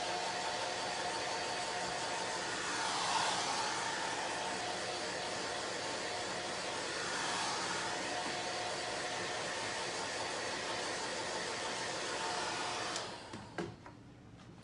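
A handheld dryer blows steadily on orange chalk paste on a craft project, a continuous airy whir that swells twice, then cuts off near the end, leaving a few faint handling clicks.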